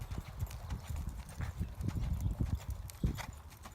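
Hooves of a ridden horse clip-clopping in a quick, uneven rhythm during a horsemanship training session, fairly close, with faint background voices.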